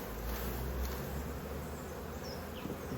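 Mostly young honeybees hum steadily as a brood frame is shaken off during a hive inspection, a dense close buzzing that runs the whole way without talk.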